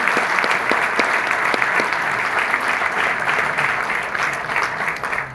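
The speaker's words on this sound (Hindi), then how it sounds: "एक जोरदार तालियां होनी चाहिए उसके लिए।" A crowd at a company event breaks into loud, sustained applause. Individual sharp claps stand out within the thick clapping, which holds strong throughout and eases slightly at the end.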